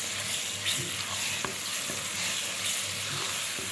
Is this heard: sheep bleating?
no